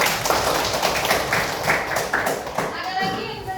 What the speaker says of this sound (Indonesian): Kasih tepuk tangan untuk kawan kita.